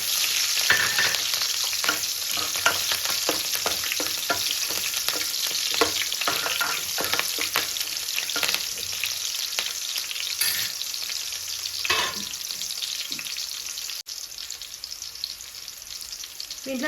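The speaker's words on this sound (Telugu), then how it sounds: "దీంట్లోనే ఆనియన్స్, పచ్చిమిర్చి కట్ చేసి పెట్టుకున్నాం కదా, ఇది కూడా వేసుకోవాలి." Chopped onions and green chilies fry with chicken gizzards in a pan for a gongura fry, a loud, continuous close sizzle broken by repeated scraping stir strokes and clatter.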